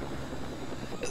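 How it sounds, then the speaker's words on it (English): A helicopter in LEGO Jurassic World: The Game whirs with a steady rotor drone, close and loud, for about a second. "The helicopter's here, and they're not gonna wait."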